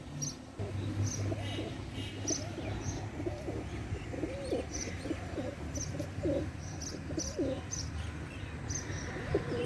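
Black Saharanpuri pigeons at the Khulna pigeon market coo in repeated low, throaty phrases close by, mixed with scattered chirps and a busy market murmur in the background.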